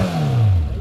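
Motorcycle engine with its stock, factory-fitted exhaust revs hard, then the pitch slides steadily downward as the revs fall, loud and close.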